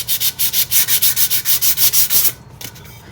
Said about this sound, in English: I like working with skinnies because I feel like they're so much easier to sand than when you have any type of curved cup